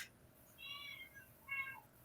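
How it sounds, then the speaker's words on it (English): Two cats meow faintly indoors, giving two short plaintive calls about a second apart against a quiet room background, with no talking. "I hear some kitties."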